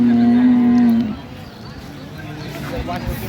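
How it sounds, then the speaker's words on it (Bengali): A cow at a rural cattle market in Dinajpur, Bangladesh, where dairy cows and calves are sold, gives one loud, sustained moo lasting about a second, then fades into the crowd noise of the market. "গাভী বাছুর আমরা দেখছিলাম"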